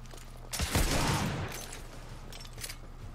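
Gunfire from a weapon in the video game The Order 1886, a dense burst of close, loud shots lasting about a second, followed by a quieter rumbling tail and a couple of faint later reports.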